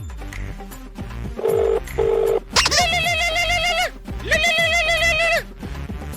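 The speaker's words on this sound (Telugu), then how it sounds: "మనం ఫోన్ చేద్దాం." Phone dialing during a comedy skit: two short, steady beeps in quick succession, followed by two longer, louder electronic ringing tones with pauses between, heard over a continuous musical background with no talking.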